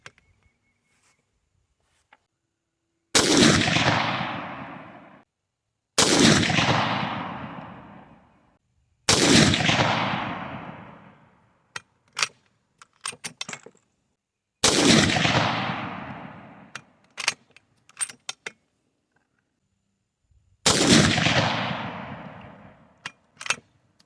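Five loud, sharp rifle shots from a BCA bolt action upper firing Hornady Frontier 55 grain hollow point match ammunition, spaced a few seconds apart outdoors, each with a long fading echo and faint clicks of bolt handling between shots.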